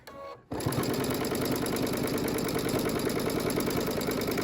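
A sewing machine runs a straight stitch along quilt binding, starting after a brief pause and then chattering in a fast, steady, close rhythm to the end.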